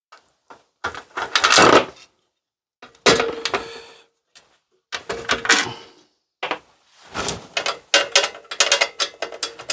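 A chain for a vintage mini tractor is handled while being fitted and checked, with bursts of metallic clinking and ratcheting rattles split by short pauses, close and fairly loud.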